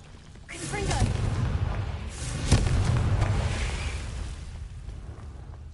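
A Confringo fire-blast spell goes off in Hogwarts Legacy, a single sharp burst about midway through a steady bed of rumbling game ambience.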